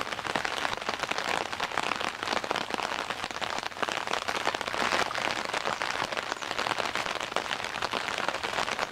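Rain falls outdoors on a camp cooking setup with an alcohol or Esbit burner, a dense steady patter and crackle of drops hitting nearby surfaces.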